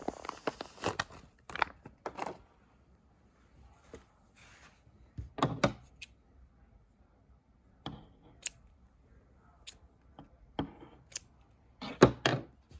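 Scissors snip through slate gray acrylic yarn loops while a scarf is being made, giving a series of sharp, close, fairly quiet cuts in small clusters, spaced by short silent pauses and with no talking.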